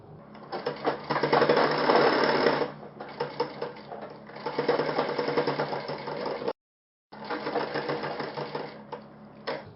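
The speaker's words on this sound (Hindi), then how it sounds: "और ये आप कंप्लीट सिलाई लगा लीजिए।" A sewing machine stitches a shirt sleeve cuff in steady, rapid mechanical bursts, running loud and close, with a brief pause before resuming for another run.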